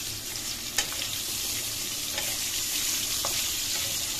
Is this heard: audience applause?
no